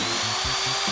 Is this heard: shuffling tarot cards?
no